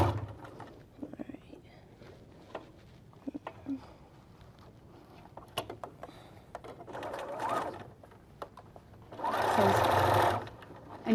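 A sewing machine stitches a quilt lining in short bursts of whirring, ending with a longer, louder run, while a person speaks quietly between the stitching.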